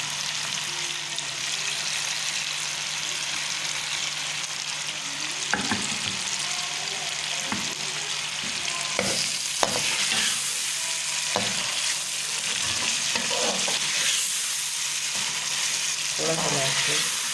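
Boiled chana dal fries and sizzles in masala in a pan, a steady hiss broken by repeated scraping stir strokes that grow busier toward the end, with a faint voice in the background.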